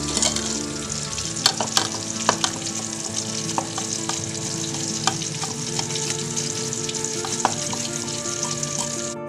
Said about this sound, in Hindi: जब तक हमारी टिक्कियाँ फ्राई हो रही हैं